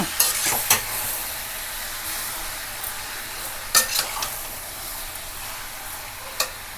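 Pepper chicken fries in a pan under a steady low sizzle, with a few scattered spatula scrapes and metallic taps as it is stirred, close by and moderately quiet.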